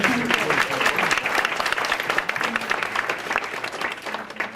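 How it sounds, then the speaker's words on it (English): An audience at a volunteer recognition dinner gives a round of applause, dense and sustained clapping with some voices mixed in underneath. "That deserves a round of applause for all of you."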